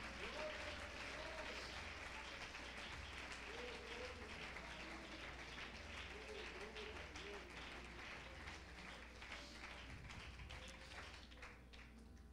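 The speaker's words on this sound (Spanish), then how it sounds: "Dele ese aplauso a la misericordia del Señor" Church congregation applauding, a steady moderate wash of clapping that holds evenly for about twelve seconds, with faint voices murmuring beneath it.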